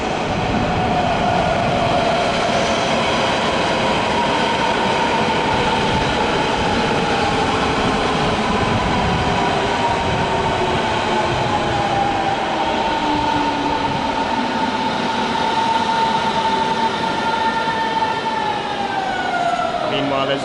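Berlin S-Bahn S3 train bound for Erkner at Berlin Hauptbahnhof, a loud steady rumble of the running train with rising and falling electric motor whine throughout, close by and continuous.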